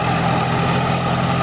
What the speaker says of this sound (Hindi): ट्रैक्टर और रोटावेटर बहुत ही ज़बरदस्त काम कर रहे हैं